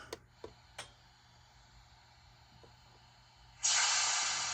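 A model steam locomotive's sound module gives a few faint clicks and ticks, then a loud steady hiss of steam bursts in and keeps going.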